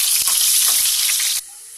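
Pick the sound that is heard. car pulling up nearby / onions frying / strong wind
onions frying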